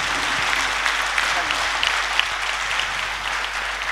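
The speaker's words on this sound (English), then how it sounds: "Kindly clap for all of them actually." Steady, dense applause from an audience at a guest speaker event in Hyderabad, continuous and fairly loud for the whole stretch, with no talking over it.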